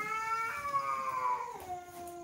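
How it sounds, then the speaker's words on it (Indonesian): Cats fighting outdoors give a long, drawn-out caterwaul, a wavering yowl that slides downward in pitch and holds at mid volume, heard without any talking. "ada kucing berantem nih"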